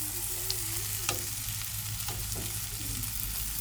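Curry powders fry and get stirred in a pan for egg biryani, a continuous close sizzle with a few sharp scrapes of the spoon breaking through.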